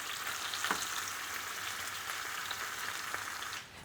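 Potatoes fry in a pan with a steady, close sizzle and a hiss of crackling oil, with a faint scrape or two of stirring and a brief dip in the noise near the end.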